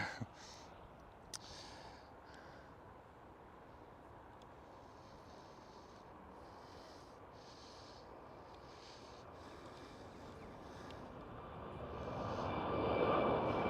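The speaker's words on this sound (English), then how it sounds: "Ah, Air Astana A321 Neo, yes." An Air Astana A321neo airliner at Schiphol Airport makes a faint, distant jet-engine roar that rises slowly and is loudest at the end, under light outdoor background noise.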